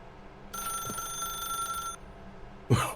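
A phone rings inside The Stanley Parable game, a steady electronic trill with bright tonal harmonics lasting over a second, then cut off by a short thump.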